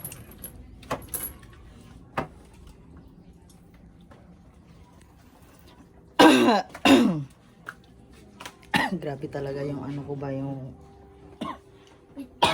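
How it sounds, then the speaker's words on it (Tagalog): Someone coughs in a few harsh, loud bursts mid-clip. Short stretches of speech come before and after in a quiet room. "yung ubo ko."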